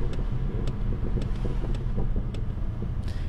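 A BMW exhaust pops and bangs on overrun, with sharp crackles at fairly regular intervals over a low steady engine rumble and some wind, heard up close.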